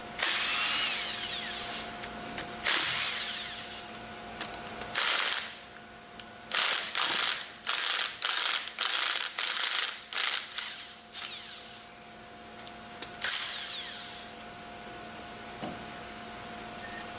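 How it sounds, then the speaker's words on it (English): A power impact wrench loosens the manifold bolts on a General Pump MKS/MKSR plunger pump, firing in long bursts and then a run of short rapid hammering pulses separated by brief pauses, loud and close with no talk. "Use the impact wrench to loosen the remaining bolts in the order demonstrated."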